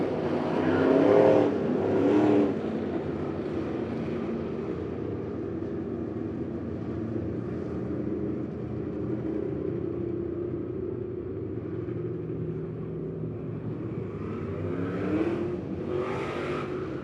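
Midwest Modified race cars at Lebanon Midway Speedway roar past with a loud engine surge, then hold a steady distant rumble around the dirt track before another car sweeps close near the end.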